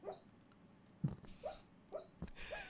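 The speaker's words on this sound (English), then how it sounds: "my dog has got the sleep squeaks going on. You may hear him in the background." A sleeping dog gives faint, high squeaks, four or five short separate chirps spread across a quiet room with a soft low hum behind them.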